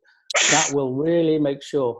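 A single sharp sneeze bursts out at the start of a dental lecture on acute pulpitis, immediately followed by someone speaking steadily over it.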